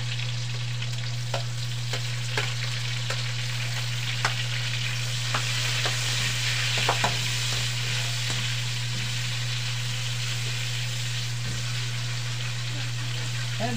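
A generous amount of onions sautéing in a pan for a pork dish, a loud steady sizzle with occasional stirring clicks, over a constant low electrical hum.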